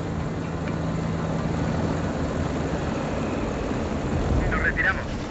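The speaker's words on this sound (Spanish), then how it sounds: "Vista puesta en los helicópteros de combate Howler K-65." Howler K-65 combat helicopters in the video game EndWar give off a steady engine and rotor drone that holds throughout under a continuous noisy bed, with a brief brighter burst near the end.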